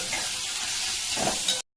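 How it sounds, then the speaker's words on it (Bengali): Small chopped shrimp frying in a pan with onion, chilli and ginger, a steady close sizzle and hiss that runs for about a second and a half and then cuts off abruptly. "লঙ্কা পেঁয়াজ আদা সব দিয়ে একসাথে আমি কষাবো"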